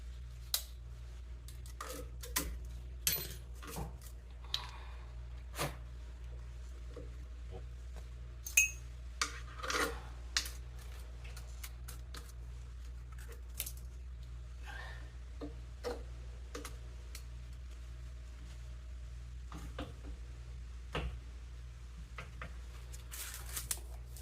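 A wrench clicks while rear lower shock mount bolts on a Toyota Tacoma are tightened during a Rough Country lift install: scattered sharp ticks and clicks, some in quick clusters, over a steady low hum.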